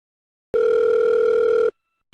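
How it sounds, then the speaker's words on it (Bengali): A single sustained telephone tone, steady and clear, sounds for about a second as a call is placed from an old house, then cuts off, followed by a brief burst of a second tone. "অর্পিতা তার বাবাকে ফোন করছে।"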